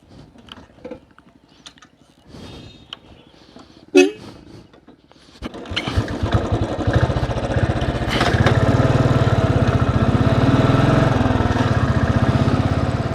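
After a few scattered knocks and clicks, a motorcycle engine starts up and runs as a steady, loud, buzzing drone during a ride to the Naina Devi temple in Bilaspur, Himachal Pradesh.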